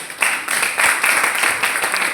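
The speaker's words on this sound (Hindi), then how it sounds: "ताली मत बजाइए" An audience at a training session claps in a brief burst, a close, bright patter of many hands with a few sharper individual claps, steady for about two seconds.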